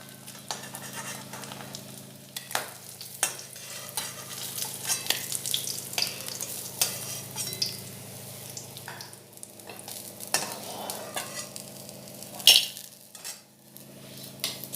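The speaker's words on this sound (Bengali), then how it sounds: "এইভাবে আমি সব মাছগুলি ভেজে নেব।" Hilsa fish pieces fry in hot oil with a steady sizzle, punctuated by scraping stirs and clinks of a metal utensil against the pan.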